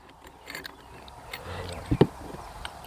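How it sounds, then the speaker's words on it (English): A wrench tightens the blade on a brush cutter, giving a few close, quiet metallic ratcheting clicks and taps with a sharper knock near the middle. "you're going to take your wrench and simply tighten up the blade"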